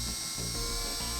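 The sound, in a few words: drill on slow speed mixing waterborne oil stain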